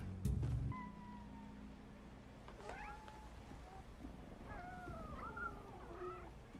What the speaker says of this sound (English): You got a lot of cats.